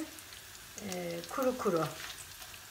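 Dried peppers frying dry in a hot pan without soaking, a soft crackling sizzle under brief speech, faint and close.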